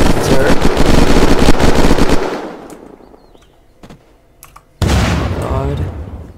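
Rapid automatic gunfire bursts loudly for about two seconds in the survival game Unturned, fades to near silence with a few faint shots, then a second loud volley of shooting erupts.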